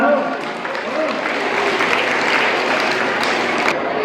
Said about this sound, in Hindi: जोरदार तालियां से एक बार।